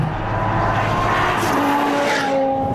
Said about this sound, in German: Also im dritten Gang, der Drift endet bei 170 Stundenkilometern.